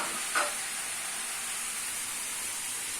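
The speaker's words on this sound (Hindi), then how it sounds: "थोड़ा सा इसको भून लेंगे गोभी को, मिक्स भी करते जा रहे हैं और भूनते भी जा रहे हैं।" Cauliflower and meat frying together for a gobi gosht salan, giving a steady close sizzle and hiss throughout, with one brief stirring scrape near the start.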